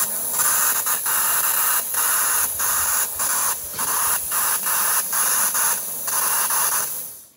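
Aerosana Visconn sprayable airtight sealant hisses steadily from a spray gun during a roof renovation, a loud close hiss broken by brief rhythmic pauses across the whole stretch, with no voices.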